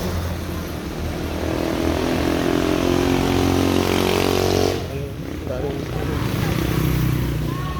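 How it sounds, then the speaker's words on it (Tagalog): Motorcycles carrying students pass along a road. A loud engine drone swells and holds, dips briefly, then returns close by under steady ambient noise. "Yan, mga motor na yan."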